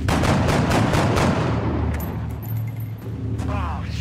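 Gunfire from the video game XCOM: Enemy Within, Long War mod, with loud rapid repeated shots and booming, followed by a dense rumbling barrage that stays continuous throughout.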